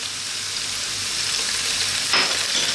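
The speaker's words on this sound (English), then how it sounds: "We're now going to add in our garlic ginger paste." Garlic ginger paste hits hot oil for saag aloo, giving a loud, steady, close sizzle with a brief sharper burst of crackle near the end.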